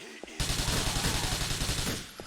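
Grand Theft Auto IV gunfire comes as a loud, rapid burst of automatic shots that runs for about a second and a half and then stops abruptly.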